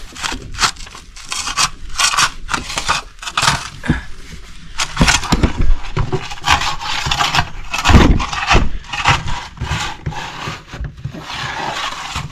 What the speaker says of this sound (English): Take your rake and pull it backwards